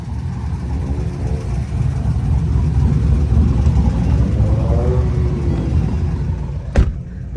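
A Ford Mustang GT rumbles steadily from inside the car as a city drive gets underway, a low, loud, continuous engine drone with a brief sharp knock near the end and no talking.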